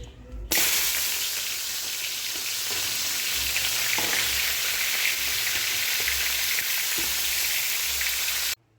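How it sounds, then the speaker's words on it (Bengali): Crab claws frying in hot oil give a steady, loud crackling sizzle with scattered pops, continuous and close by from start to finish, with no talking. "এবারে এই দাঁড়াগুলো ভেজে নেব"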